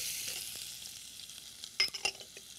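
Onions fry in a pan with golden urad dal for an Indian dish, a soft hiss that fades, then a few quick scraping stirs near the end, faint and without voices.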